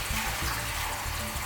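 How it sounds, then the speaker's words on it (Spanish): Tap water runs steadily over rice in a colander, a close, continuous hissing splash with no talk. "con agua del grifo lavamos bien"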